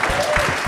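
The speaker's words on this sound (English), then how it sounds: "Clap it up, girl." A quick burst of clapping from a small podcast panel audience in a studio, close and fairly loud, with a voice speaking over it.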